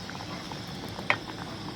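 Potatoes boil in a pot with a soft, steady bubbling patter close by, one brief sharper pop standing out midway.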